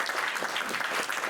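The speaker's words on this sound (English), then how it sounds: "Big applause." Audience applause at the close of a remark during the ASEAN Forum at WTC Stockholm, a steady burst of clapping from a hall crowd lasting the whole brief moment without a break.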